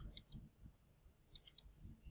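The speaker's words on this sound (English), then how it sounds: "clicking on send." Two pairs of crisp computer mouse clicks, close and quiet, as a web form is sent, with a short gap between the pairs in a near-silent room.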